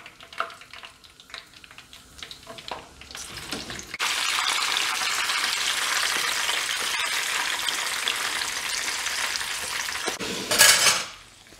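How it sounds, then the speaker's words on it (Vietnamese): Pork belly sizzles and fries in hot oil in a pan, a steady loud crackling hiss that swells after a few seconds of quieter clatter and runs continuously, ending in a brief louder burst. "Sau khi mình chiên khoảng 5 phút cái da nó cũng nó giòn giòn rồi đó"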